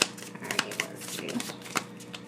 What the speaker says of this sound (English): These are new, so they're a little tough to shuffle.